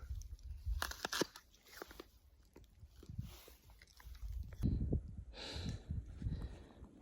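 Crisp crunching bites and chewing of an apple eaten outdoors on a snowy mountain, several close crunches with wet chewing between them, some wind noise in the background.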